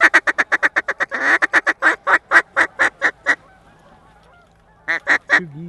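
Canada geese on a waterfowl hunt over mallard decoys give a long, loud run of rapid honks, pause briefly, then break into a few more close, sharp calls.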